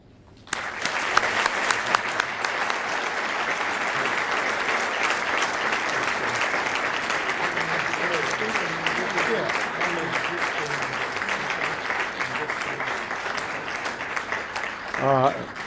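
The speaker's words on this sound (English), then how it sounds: "They richly deserve our applause and acclaim" Sustained audience applause fills a hall at an academic awards convocation, a dense steady wash of clapping from a large crowd lasting throughout, fading slightly near the end.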